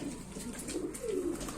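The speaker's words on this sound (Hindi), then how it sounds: "तो हमारे कबूतर है, देखो बोरी वो कटरंगी, और देखें वो अंडों पे बैठे हुआ कबूतर।" Pet pigeons, a pied bird among them and some sitting on eggs, give soft low coos at close range, two or three short murmuring phrases over a steady background hum.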